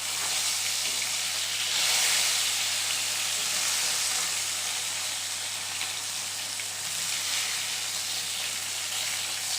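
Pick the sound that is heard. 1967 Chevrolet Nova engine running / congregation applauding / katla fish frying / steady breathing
katla fish frying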